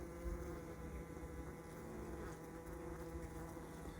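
Honeybees droning inside an opened winter hive, a soft continuous buzzing hum with steady low tones, close and fairly quiet, no voices.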